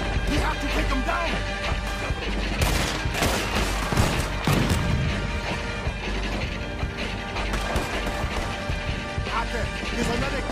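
Gunfire from a shooter in a fort tower in Red Dead Redemption 2, dense rattling shots and crashes in a continuous loud battle din, with voices talking over it.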